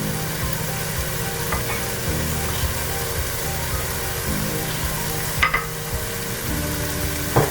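Spice powders being stirred into a frying pan while cooking chicken tikka masala, giving a steady sizzle with scraping stir strokes throughout and a couple of sharper clinks near the end, with no talking.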